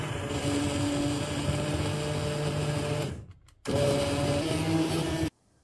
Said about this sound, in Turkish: Daha sonra bir blender ile de pancarları sütün içinde eziyorum.